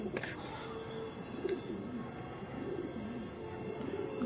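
Andhra breed pigeons coo in a repeated, wavering low rhythm, fairly close, over a steady high-pitched insect-like whine and faint background noise.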